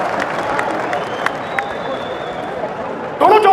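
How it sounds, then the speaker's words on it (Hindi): Crowd applause rolls steadily through a political rally, a dense wash of clapping and murmur with scattered sharper claps, then a brief louder burst of voices near the end. "ठोको ठोको, ताली ठोको।"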